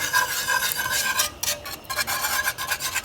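A spoon scraping and rubbing steadily around a pot of maple blueberry jam made with Pomona pectin as it heats toward a full boil, a close, continuous rasping with brief pauses.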